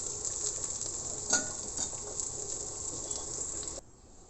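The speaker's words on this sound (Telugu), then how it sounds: "చామదుంపలు ఫ్రై." Taro roots frying in a pan give a steady, close crackling sizzle with small pops and stirring scrapes, then cut off abruptly near the end.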